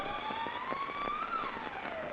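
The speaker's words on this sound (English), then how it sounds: "Far in the distance, they can hear the siren of the state penitentiary from which they've just escaped" A distant state penitentiary siren used as a radio drama sound effect, a steady wailing tone that slowly rises and then falls, held at a moderate level for the whole stretch with no voices.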